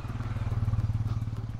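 Motorcycles run near a crowded resort outside Bangalore, their engines putting out a low rapid pulsing throb that swells and fades slightly as they move past, fairly close and with no clear voices.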